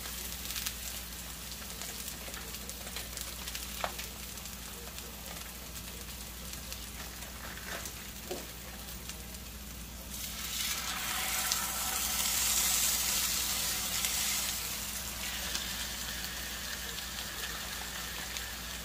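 Food fries in grease in a pan on a sloping stovetop burner, a steady close sizzle with scattered pops. The sizzle grows louder and brighter partway through, then settles.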